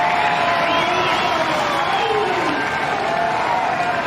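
A large crowd at the Burleigh Heads surf contest cheers and applauds steadily and loudly throughout, a dense, continuous roar with no single voice standing out.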